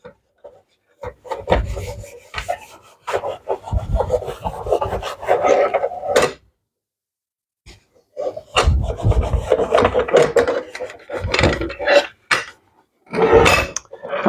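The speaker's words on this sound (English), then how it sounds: "going to wax this everywhere. All the surfaces." Wax being rubbed by hand across the metal surfaces of a circular saw's lower blade guard, a close, dry scraping rasp in bursts of strokes with a long silent pause midway.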